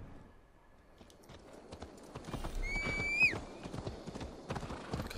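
Steady hoof clip-clops patter along with a brief horse whinny in the middle, over soft background ambience, in the video game Assassin's Creed Valhalla.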